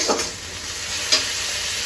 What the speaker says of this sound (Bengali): এই যে অল্প ভাজা হয়ে গেছে, দেখো পেঁয়াজগুলো লাল লাল হয়ে আসছে